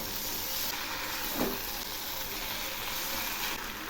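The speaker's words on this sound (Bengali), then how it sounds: "এবার আমি এর মধ্যে শাকগুলো দিয়ে দিচ্ছি। এখন আমি এগুলি নেড়ে দিচ্ছি।" Pumpkin greens stir-fried in spiced oil, giving a steady close hiss and sizzle throughout with a brief stirring scrape midway.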